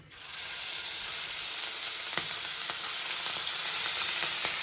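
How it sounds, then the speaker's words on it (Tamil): Squid shallow frying in a pan for a squid masala fry, a loud continuous hissing sizzle that holds steady, with a few faint pops and clicks partway through. "நம்ம இப்போ ஸ்கூட் இந்த கனவை லைட்டாக வறுத்து எடுக்க போகிறோம். ஷாலோ ஃப்ரை மாதிரி ஆட் பண்ணிக்கலாம்."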